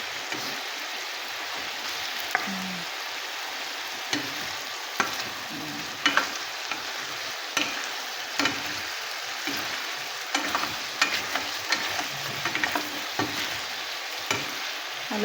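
Chicken curry frying in a pan with garlic, onion and ginger, giving a constant loud sizzle while a utensil stirs and scrapes with frequent small clicks and taps, and no talking.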